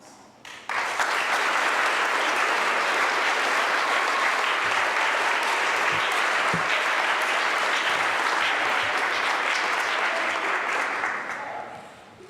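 Audience at a school DARE graduation ceremony breaks into loud, sustained applause that starts abruptly, holds steady for about ten seconds, then fades at the end.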